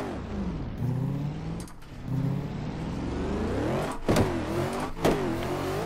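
A car engine in the Assetto Corsa racing game, from a Link ECU car pack, revs hard and loud, rising and falling through gear changes with sharp bursts of acceleration near the end.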